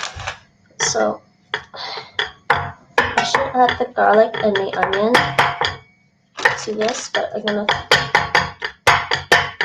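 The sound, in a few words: utensil scraping and breaking up ground beef in a pan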